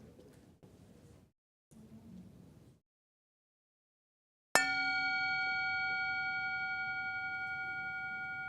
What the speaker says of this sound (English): We'll have a moment of silence as we ring the bell for them.